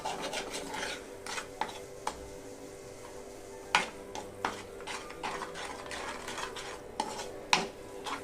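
A khoa and sugar mixture for pedha is stirred in a pan, giving steady scraping and rasping with scattered sharp ticks of the spoon against the metal, close and moderately loud with no talking.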